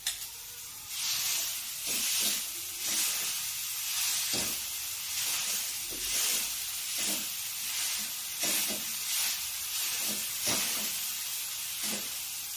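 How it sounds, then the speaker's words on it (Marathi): Cooked tomatoes mashed in an oiled pan for a green chilli and tomato thecha, with a steady sizzle under repeated soft scraping and pressing strokes, close and moderately loud, no talking. "आता आपण याला मॅश करून घेऊयात।"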